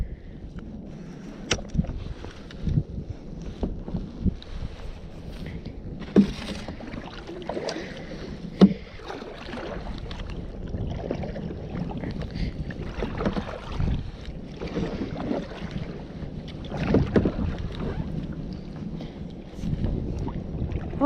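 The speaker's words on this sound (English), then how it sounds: "Oh, the wind is blowing super strong this way." Strong gusts over a lake buffet the microphone from a small fishing boat, a loud, uneven rumbling roar that swells and eases throughout, with no talking.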